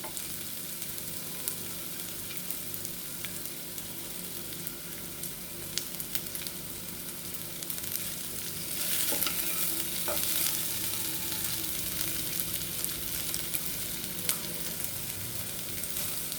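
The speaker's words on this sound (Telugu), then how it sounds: "నల్లేరు కాడలు ముక్కలండి, దీన్ని కూడా దూరగా వేయించుకోవాలి" Chopped nalleru (veldt grape) stalks fry in a pan with a steady, close sizzle that runs throughout, with a few light stirring knocks and no voices.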